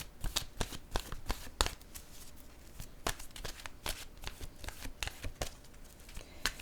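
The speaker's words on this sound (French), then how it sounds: "Je vais piger maintenant une carte de mon oracle de l'âme intuitive." Oracle cards for intuitive soul readings are shuffled and drawn by hand, giving a close, steady run of crisp riffling flutters and soft slaps with no talking.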